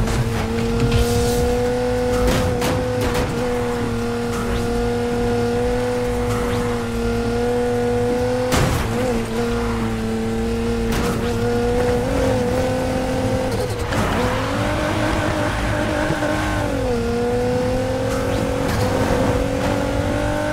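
Cars race at high speed through a police pursuit in the video game NFS Heat: sustained, loud engine whine with shifting pitch, occasional tire squeals and skids, continuous with no gaps.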